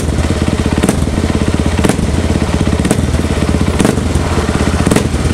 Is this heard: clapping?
no